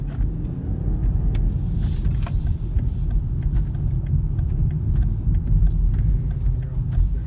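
A 2018 BMW 640i GT, a big heavy car, drives on tight turns, giving a steady low engine and road rumble heard from inside the cabin, with a few faint clicks and no talking.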